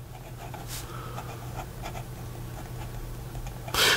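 Lamy Aion steel-nib fountain pen writing reversed on paper, a soft scratchy scraping in short strokes, with a louder burst of scratching at the end.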